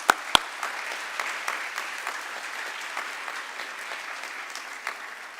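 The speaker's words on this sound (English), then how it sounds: "So can we give all those people a big round of applause?" Applause at an annual awards ceremony, with two sharp close claps at the start and then a steady, moderately faint patter of many hands from the audience.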